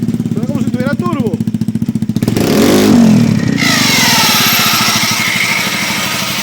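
A Polaris RZR fitted with a 150 hp Honda CBR 1000 motorcycle engine idles with a pulsing throb, then revs up hard and stays loud and close; a person talks briefly early on.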